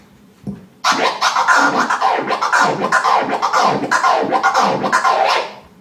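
DJ flare scratching on a vinyl record: a brief quiet lead-in, then loud rapid back-and-forth scratches with choppy cut-off strokes in a continuous rhythmic triplet run.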